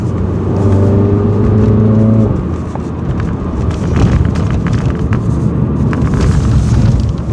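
A Mini car's engine revs loudly and close, holding a droning tone for about two seconds before it gives way to a dense, rushing road and traffic roar as it drives on.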